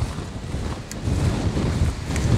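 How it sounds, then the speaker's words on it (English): Wind blows at the shore in a steady low rumble buffeting the microphone, with gusts swelling and easing and a couple of faint clicks. "The wind is going to be my biggest issue."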